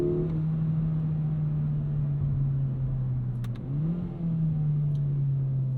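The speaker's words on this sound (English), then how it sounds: "Nice rev matches there." A 2022 Kia Forte GT engine hums steadily, then briefly dips and blips upward in pitch as the revs rise during rev-matched paddle-shift downshifts, with a continuous low drone throughout.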